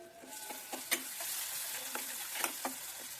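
Tomatoes for a Maharashtrian tomato curry sizzle softly in oil, with a series of crisp, irregular clicks and scrapes from a spoon stirring close by.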